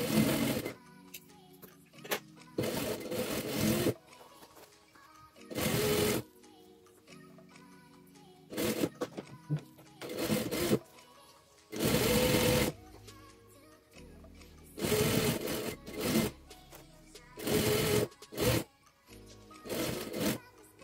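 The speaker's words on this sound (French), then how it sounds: "Ensuite, je vais coudre tout autour." A sewing machine stitches around the edge of a child's backpack in short and longer bursts, separated by quiet pauses, with no one talking.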